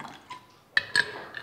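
Tap water is poured into a small cup in two brief bursts of splashing and trickling, close up and otherwise quiet.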